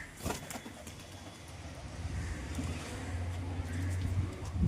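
Low, rolling pigeon coos repeat softly through the clip, joined by a few sharper sounds and faint background noise.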